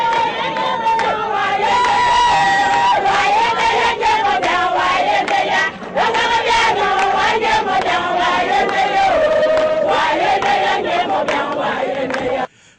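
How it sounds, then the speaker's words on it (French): A dense roadside crowd in Equatorial Guinea cheers and shouts as the second vice-president's motorcade arrives, a loud, continuous roar of voices with chanting tones that barely lets up before cutting off at the end. "Au sein d'une foule qui forme une aire d'honneur tout le long de l'itinéraire du second vice-président, l'euphorie monte d'un cran."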